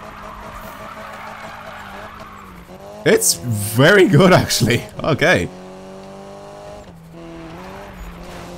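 Tires squeal and skid loudly as a car drifts in a racing video game, a burst of screeching lasting a couple of seconds over a steady engine drone, with a voice talking before and after.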